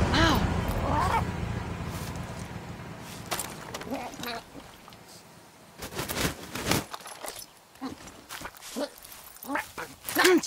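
A companion bird squawks and cries repeatedly in Far Cry 6, loud and close, with scattered calls later among footsteps and game sounds while a person talks.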